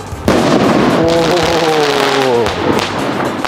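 A Diwali sky shot firecracker bursts with a sudden loud bang, followed by crackling and a falling whistle-like tone as it fades, while voices react in the background.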